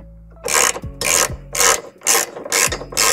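A ratchet with a 17 mm socket clicks in six rhythmic bursts, close and loud, as it snugs the frame bolts of a trailer hitch on a 2006 Subaru Forester.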